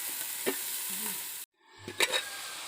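Tomatoes being stirred into a fish curry frying in a pan during village cooking: a steady sizzle with a few scraping stir strokes, a brief gap, then more sizzling and clattering stirs.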